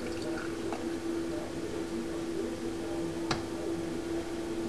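Beer pours from a keg tap through five feet of hose, a steady soft hiss and gurgle of liquid with a faint constant hum beneath and one brief clink near the end.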